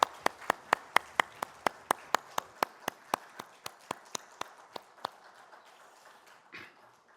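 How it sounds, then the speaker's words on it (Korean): A congregation at a Sunday worship service claps together in a steady, even rhythm, around sixteen crisp unison claps that soften and thin out toward the end, with no talking. "하나님께 영광의 박수 올려드리겠습니다"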